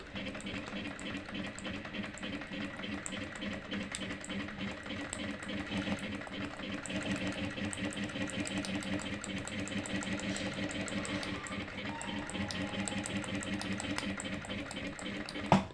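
A tailoring sewing machine runs continuously while stitching fabric during practice, a steady mechanical whir that holds an even rhythm throughout with no voices.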